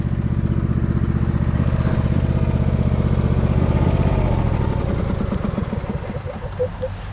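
Briggs & Stratton V-twin engine on a riding lawn mower running steadily while mowing with a full bagger, a loud continuous throbbing drone close to the microphone that eases slightly near the end.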